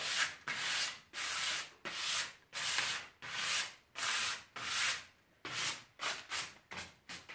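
A chest of drawers is hand-sanded with 120 grit sandpaper on wood, a rhythmic series of about a dozen close, rasping strokes, each a short swelling scrub, quickening slightly toward the end.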